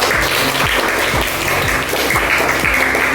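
Classroom applause for a student group, a short burst of many hands clapping close by at a steady, full level with no voices over it.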